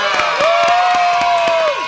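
Studio audience on an Indonesian podcast set claps and cheers, a dense, loud burst of applause and whoops lasting a couple of seconds, with a sustained tone running through the middle.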